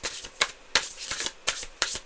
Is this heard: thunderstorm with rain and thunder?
no